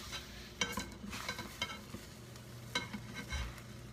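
Eggs frying in a pan, a steady low sizzle with soft clinks and scrapes of a utensil now and then, close and fairly quiet, with no talking.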